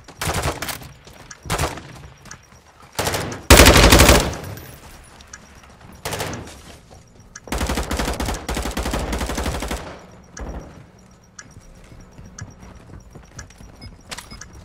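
Loud bursts of automatic gunfire from a Modern Warfare II co-op mission at Mt Zaya, with rapid volleys and single shots in irregular clusters, the heaviest sustained bursts near the middle.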